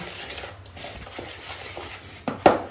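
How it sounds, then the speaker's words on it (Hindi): Chicken being mixed with cornflour and gram flour in a bowl for pakoras, soft wet stirring and scraping building to a couple of sharper clinks of a utensil against the bowl near the end, no talking. "कॉर्नफ्लोर और बेसन ऐड करने के बाद हमने इसको अच्छी तरह से मिक्स कर लेना है।"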